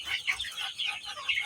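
A brooding hen clucks repeatedly on a backyard poultry farm, short rhythmic clucks close to the microphone with no other sounds or talking.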